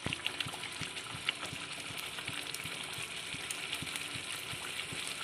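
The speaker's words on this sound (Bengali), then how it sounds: "পরিমাণ মতো অল্প একটু জল দিয়ে দিলাম, বেশি জল দেওয়ার প্রয়োজন নেই" A little water goes into a rohu fish korma cooking in a hot pan, setting off a steady hissing sizzle with scattered crackles and bubbling.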